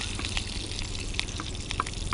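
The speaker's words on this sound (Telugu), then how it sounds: "కరివేపాకు వేసాక యాజ్ యూజువల్గానే ఇది చిటపట్లు ఆడిపోతుంది" Curry leaves spluttering in hot oil while tempering for a bottle gourd chutney, a dense continuous crackle with quick pops over a low rumble, close and steady, no speech.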